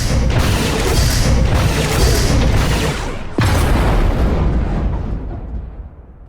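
A heavy explosion in the game Star Wars: The Old Republic, a loud booming blast followed by a second crashing burst and a long rumbling decay that fades out.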